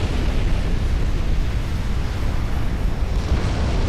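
A ship's flash fire explodes in the naval battle game Ultimate Admiral: Dreadnoughts, a sustained, dense, roaring rumble heavy in low end that holds loud and steady throughout.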